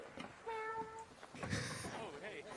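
A player meows in voice chat in the Arc Raiders video game, giving a few drawn-out cat-like meows, one rising and one wavering, in a near voice imitating a cat over faint background game noise.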